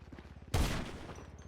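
A single loud gunshot bursts out in a GTA 5 shootout, its sharp crack trailing into a decaying rumble over a low, pulsing game background.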